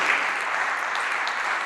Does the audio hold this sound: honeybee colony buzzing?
no